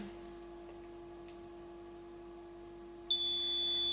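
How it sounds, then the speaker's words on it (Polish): A digital kitchen timer sits through a faint, steady background hum, then its high-pitched electronic alarm suddenly starts beeping loudly near the end and keeps sounding. "A właśnie, i mamy alarm."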